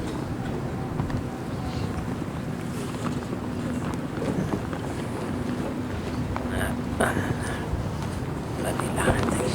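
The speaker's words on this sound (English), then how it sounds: "Gusty wind." Gusty wind sweeps across an outdoor bowls green at a women's singles final in Moama, NSW, a constant broadband rushing and buffeting against the microphone, with voices faintly underneath.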